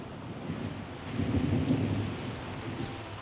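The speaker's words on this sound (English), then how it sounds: "and the rain began to fall" Rain starts falling amid a low thunderstorm rumble, a soft steady wash that swells in the middle and then eases, heard alone without talk.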